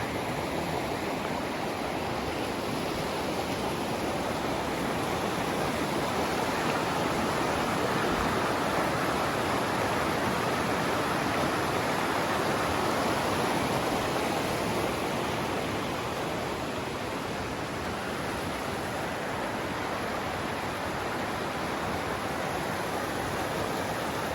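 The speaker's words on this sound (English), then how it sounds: "Here we are at the bridge, the Roaring River." The Roaring River in Kings Canyon rushes beneath a bridge in a steady, loud, unbroken roar of whitewater that carries on with no voices over it.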